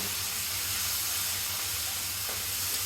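Spice paste with salt frying in a pan for olive pickle, a steady close hiss and sizzle running unbroken throughout, with no talking.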